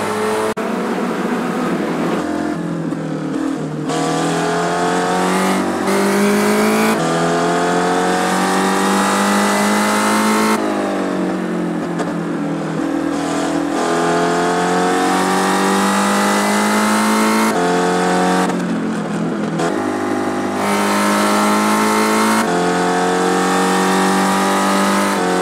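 A Spec Racer Ford engine at Laguna Seca in iRacing drones loudly and continuously, rising through revs, dropping on gear shifts and lift-offs, with no talk over it.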